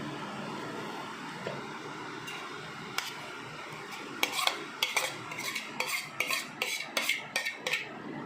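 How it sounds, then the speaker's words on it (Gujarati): Spiced potato vada filling with chopped chillies and coriander is stirred in a metal bowl, starting soft, then building into a quick run of close, crisp spoon clinks and scrapes, with no voices. "હવે આપણે એને સારી રીતે મિક્સ કરી લઈશું।"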